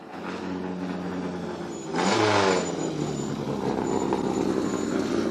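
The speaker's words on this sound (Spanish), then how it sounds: "Un auténtico Renault 18 de los años 80, manejado por quien en su momento era el dueño de esta butaca" A 1980s Renault 18 rally car running nearby, a steady engine roar with a louder surge partway through, then holding at a strong continuous drone.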